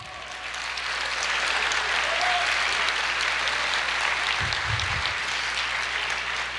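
Church congregation applauding after a sermon, a dense, steady wash of many hands clapping that holds for several seconds, with a brief low rumble partway through.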